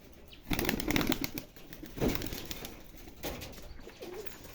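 Rajshahi Giribaz pigeons take off and flap their wings in flight, making several loud bursts of clattering wingbeats at close range, with soft cooing between them.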